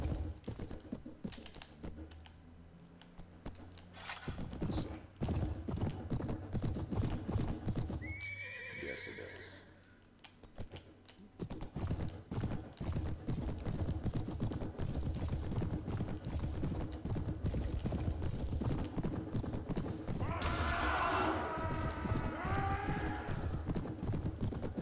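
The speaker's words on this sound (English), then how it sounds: "Now, does this sound like a horse as well?" Steady clip-clop hoofbeats of a tiger mount in the Perisno fantasy video game, a continuous galloping rhythm close and prominent, with a couple of whinny-like calls.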